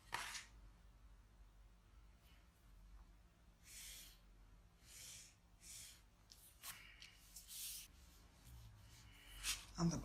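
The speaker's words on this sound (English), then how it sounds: "Here I draw a line 1 inch from the bottom." A marker or pen is drawn across fabric to mark a stitch line, giving soft, faint scratchy strokes in short separate bursts against a quiet room.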